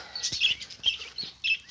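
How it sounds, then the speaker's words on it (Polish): Small lovebirds give a quick series of high, sharp chirps and tweets close by, several short bursts spread over under two seconds with no talking. "pokażę Wam małe nierozłączki"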